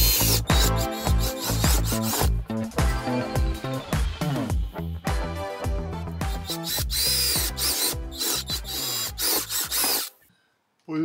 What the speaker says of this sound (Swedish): Plockar vi bort den och så borrar vi nya hål.